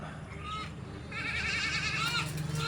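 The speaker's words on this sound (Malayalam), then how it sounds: "നാല് മാസം പ്രായമുള്ള ഈ രണ്ട് ക്രോസ് ബീഡ് ആട്ടുംകുട്ടികളുടെ" Four-month-old crossbred goat kids bleat in a wavering, nasal cry that rises and holds for about a second, close by, over a steady background murmur.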